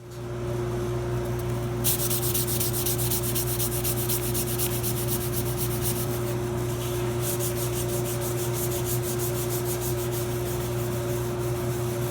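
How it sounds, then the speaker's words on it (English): A foam sanding block works excess grain filler off guitar wood in steady, rapid back-and-forth rasping strokes, close and continuous, over a constant low hum. "So I'll just sand it all off."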